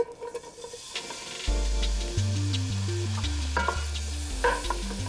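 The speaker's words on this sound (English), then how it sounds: "I'm gonna add a little oil, just so the pancetta doesn't stick to the bottom." Pancetta browning in hot oil in a pan, a bright steady sizzle with small pops and crackles, joined after a moment by a low, stepped musical tone underneath.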